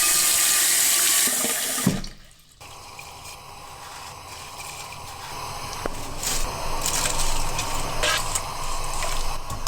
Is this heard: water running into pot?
yes